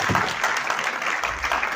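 Loud, dense applause from an audience at a school science conclave, many hands clapping at once in a sustained burst.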